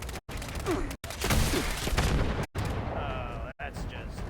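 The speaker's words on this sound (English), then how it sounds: "get ready for some missile launcher fail coming in" A missile launcher fires in the video game Fallout 76, with loud booming blasts and rumbling explosions in quick succession, broken by abrupt gaps and a voice briefly underneath.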